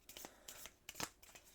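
Event cards for the Robinson Crusoe board game being shuffled, a quick series of soft riffling, papery bursts, close and quiet.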